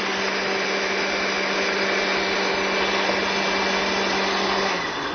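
A kitchen blender runs steadily as it purées a sauce with olive oil, a loud continuous whirring drone with a faint hum throughout and no voices, winding down slightly at the very end.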